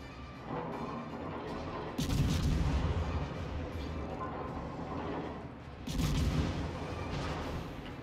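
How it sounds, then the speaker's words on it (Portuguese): Two heavy booming double naval cannon blasts in the video game World of Warships from the cruiser Raimondo Montecuccoli, a few seconds apart, each with a long rumbling tail over steady mechanical background noise. "acertar com tiro canhão duplo"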